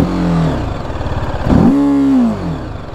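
A TVS Apache RTR 310 motorcycle idles with a steady thrum, then the engine revs up sharply toward 5000 RPM, holds briefly and drops back, loud and close with no talking.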